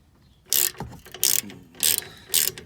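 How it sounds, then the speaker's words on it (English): Four loud, evenly spaced ratcheting bursts, alone and close up, from a crescent wrench working a rear brake nut loose on a Buick Enclave. "So I ended up just grabbing this crescent wrench, putting it on the nut, and then from there I was able to break it loose."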